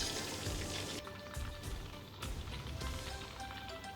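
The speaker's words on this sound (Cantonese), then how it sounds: "將豬肉球放入油鍋中，用中大火炸大概2分鐘" Pork meatballs deep-frying in hot oil over medium-high heat, a steady close crackling sizzle with bursts of spattering, no voices.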